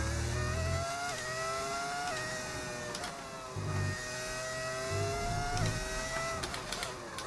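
Modded V10 engine in the F1 25 racing game, screaming through repeated rev rises and sharp gear-shift drops over several seconds, loud and close with no talking.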